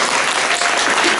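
Dense, loud applause from a concert-hall audience at a lecture-concert of poetry and music, a steady wash of many hands clapping alone without voices.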